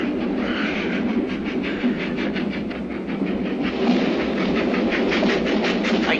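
A train rattles steadily along the rails in a continuous, fairly loud rumble with rhythmic clacking from the carriages, close and unbroken throughout.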